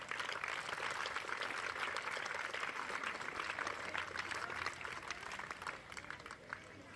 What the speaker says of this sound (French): Encore une fois, une bonne main d'applaudissements pour nos garçons.